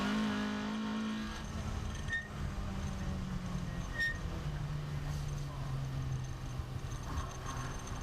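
Saloon race car heard from onboard on the slippery Castle Combe circuit, a steady engine drone with shifting pitch as it powers out of corners, loud and continuous throughout.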